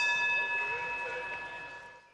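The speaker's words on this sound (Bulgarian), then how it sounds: "След 8 часа дебати по време на извънредното заседание на парламента се чу звънецът за финала." Electric bell in the Bulgarian parliament chamber signalling the close of an extraordinary session, a sustained ringing tone that fades out over about two seconds.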